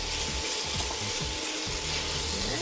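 Shrimp fry in a hot pan with instant stir-fry noodles, giving a steady hissing sizzle with light scraping and stirring clicks, close and continuous without talk.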